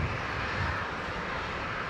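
Flydock Beechcraft King Air 360 taxiing out for departure at Brisbane Airport, a steady broadband turboprop roar heard from a distance, continuous and unchanging.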